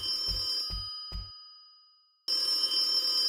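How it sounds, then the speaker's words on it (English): A telephone rings in a horror video game: three short electronic rings in quick succession, a pause of near silence, then ringing resumes loudly, with a steady high tone underneath. "what happens if we pick up the phone immediately, I wonder?"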